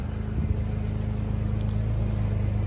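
A 2001 Chevrolet S-10 ZR2 pickup with a 4.3 Vortec V6 idles in a cold building, a steady, close, loud low rumble that holds even throughout.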